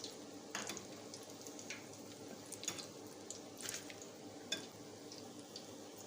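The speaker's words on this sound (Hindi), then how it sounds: "साथ साथ रोल करती जाऊंगी, घुमाती जाऊंगी ताकि जल्दी से वो भी फ्राई हो जाए" Aloo balls, potato balls deep-frying in hot oil, a soft steady sizzle with scattered pops and crackles, fairly quiet and close, with no talking.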